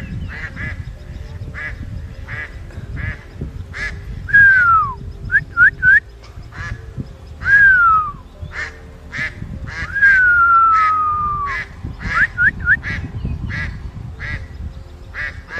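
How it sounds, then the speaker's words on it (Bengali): Domestic ducks quack steadily in close, repeated bursts, joined now and then by drawn-out whistling cries and honks over a constant low rumble of outdoor noise. "আর এই কয়টা আমার হাঁস কয়টা"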